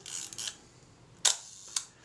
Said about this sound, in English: I've got that shutter back in again, working, everything going correctly.